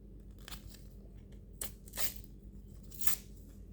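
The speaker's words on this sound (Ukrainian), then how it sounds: "Давайте відкриємо ще цей пакетик" A small paper surprise packet is torn open by hand in a few short, crisp ripping bursts, close and quiet, with rustling between them and no talk.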